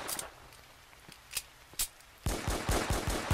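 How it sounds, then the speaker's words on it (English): Machine gun fire in a Roblox war game: a few isolated sharp shots, then a rapid close burst of repeated gunfire, with no talking. "Keep shooting, keep shooting."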